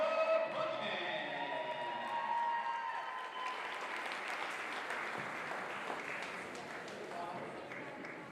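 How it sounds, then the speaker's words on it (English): Crowd applause at a women's college basketball senior night in a gym, sustained clapping that starts strong and slowly tapers, with a voice faintly over it at the start. "let's have a round of applause for number 55, Michaela Paquette."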